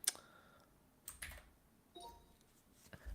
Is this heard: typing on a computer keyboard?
yes